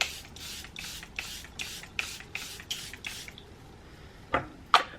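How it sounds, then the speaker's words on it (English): Charlotte Tilbury Airbrush setting spray mists out in about nine quick, evenly spaced hissing bursts at close range, followed by a couple of sharp taps, with no talking. "I have the Charlotte Tilbury Airbrush Polish Setting Spray. I'm gonna be using that."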